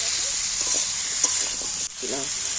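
Drumstick stems sizzle steadily in a hot pan for a fish curry, with a continuous bright frying hiss and a few soft stirring scrapes; a voice briefly speaks near the end.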